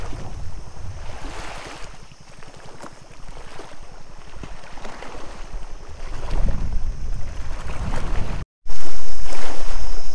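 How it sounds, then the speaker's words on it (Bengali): Tidal water laps and washes near a boat at a beach landing at Lalganj near Bakkhali. The sound is loud and close, with heavy wind buffeting the microphone that grows stronger toward the end. "খুব সুন্দর জোয়ার আছে, জলের আওয়াজ তো খুব ভালো মতনই পাচ্ছ।"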